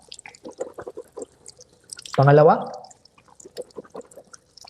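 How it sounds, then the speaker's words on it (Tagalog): Water gurgles and swishes in the mouth during a rinse in wudu ablution, a brief loud burst between stretches of a man's speech. "kuha tayo ng tubig at magmumug po tayo ng 3 beses at lakasan po natin"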